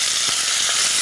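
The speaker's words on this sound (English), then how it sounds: "We're going to get our stew beef right in there and get that. Oh yeah, sizzling up." Stew beef seasoned with Sicilian seasoning sizzles in very hot olive oil in a pan, a steady loud hiss of frying filling the short moment with no talk.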